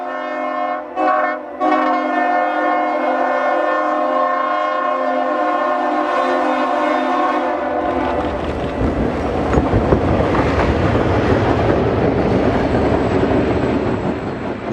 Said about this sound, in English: we're going to see a Jordan spreader ripping through town and kicking up a lot of snow as it breaks through grade crossings